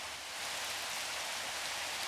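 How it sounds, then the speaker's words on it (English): Heavy rain falls at a steady, dense patter, loud and close, with no voices over the downpour. "Rain's coming down harder."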